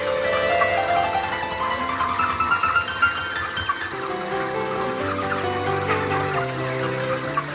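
A dense, continuous chorus of many broiler chickens clucking and calling together in a poultry house, filling the enclosed space at a steady volume.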